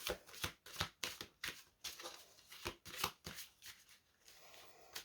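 Playing cards being shuffled for a card reading, a close run of quick papery riffles and snaps repeating in bursts for about five seconds, fairly soft, with no talking.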